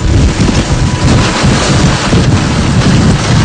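Super Typhoon Haiyan striking the Philippines in 2013: loud, constant roaring wind and driving rain buffet the microphone with a dense, unbroken rush and no voices.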